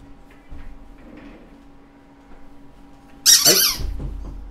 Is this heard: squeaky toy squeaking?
yes